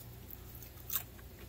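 A single sharp crunch as a thin, crunchy freeze-dried carrot slice is bitten, one brief snap near the close in an otherwise quiet room with low background hum.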